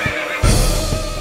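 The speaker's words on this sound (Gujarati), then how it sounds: "મારો રતન ઘોડો એટલા માટે હણ હણ હતો જવા માટે તૈયાર થયો હતો" A horse gives a loud, close neigh that begins abruptly partway through and carries on as a rough, wavering whinny to the end, over a constant background hum.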